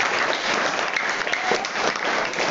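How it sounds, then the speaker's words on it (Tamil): Audience applause fills a temple concert of Indian classical music, a dense, steady wash of clapping from a seated crowd at moderate volume, continuous throughout with no voices. "உமா சதீஷ்க்கு ஒரு கரகோஷத்தை போடுங்கள்."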